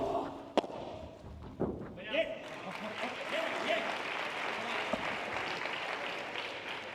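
Crowd murmur and scattered applause from spectators at a professional padel final at the Sanlucar Open, a steady mid-level wash of voices with a few sharp thuds and claps, under talk.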